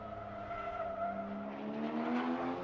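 A Porsche brakes hard into the Hohenrhein chicane, the last chicane before the finish line, its engine note sliding downward while the tires skid and squeal continuously and loudly, close up and without talk.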